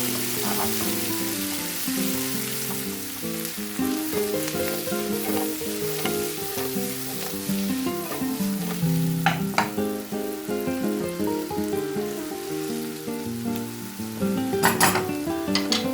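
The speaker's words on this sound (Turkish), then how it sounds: "Soğanlarımızı rengi dönene kadar, şöyle hafiften karamelize olana kadar çevireceğiz arkadaşlar." Onions frying in a pan while being stirred until lightly caramelized for a piperade, a steady close sizzle with occasional scraping clinks of the utensil against the pan.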